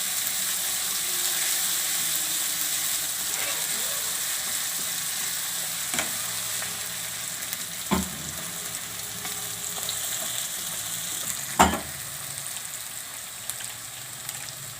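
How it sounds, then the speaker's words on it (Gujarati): Onions fry in oil in a pan, giving a continuous sizzle with a few sharp clicks from stirring or the spoon hitting the pan. "હવે આપણે એમાં ડુંગળી નાખી દઈશું."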